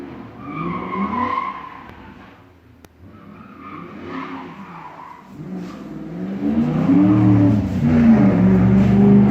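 A Ford Mustang drives past with its engine revving, building from a moderate rumble to a louder, rising roar over several seconds, alone with no voices.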